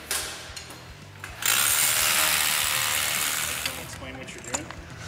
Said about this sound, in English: I'm drilling holes, Mike, in the concrete for the lift